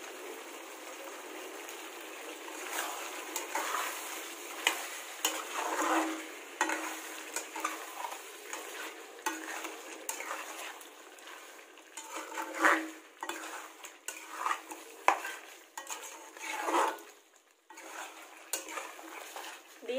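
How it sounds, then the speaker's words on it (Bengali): Punjabi chicken masala cooks on low heat in a pan while being stirred, giving quiet, irregular scraping and clinking under a soft, steady sizzle. "এবার আমি এটা অল্প আঁচে কষাতে থাকবো ঢাকা দিয়ে দিয়ে।"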